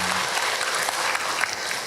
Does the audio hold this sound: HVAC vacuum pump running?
no